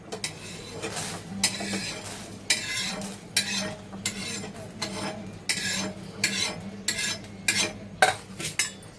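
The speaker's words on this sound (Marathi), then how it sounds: "वास सुटेपर्यंत भाजायचं मस्त वास सुटले आणि हे भाजून घेतले" Field crabs roasting in a pan, with repeated loud scraping and clattering of a spatula against the pan at an irregular rhythm over a low sizzle, close and without talk.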